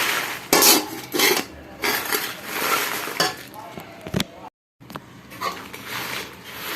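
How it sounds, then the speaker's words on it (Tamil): Red chillies being stirred while dry-roasting in a pan for homemade rasam powder, with repeated scraping and clinking of a spoon against the metal pan in uneven strokes and a faint sizzle underneath. "ஸோ இந்த மாதிரி கிளறி விட்டுட்டே இருக்கணும்,"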